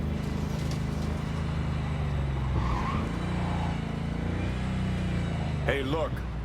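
Car in Cyberpunk 2077 driving with a steady low engine drone and road rumble throughout, a brief tire squeal near the end, and someone talking over it.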